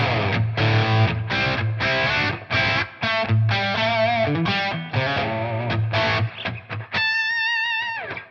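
Distorted electric guitar chords and riffs played through a ToneX amp modeling pedal, loud and up close, heavily effected, ending on a sustained ringing note that fades out.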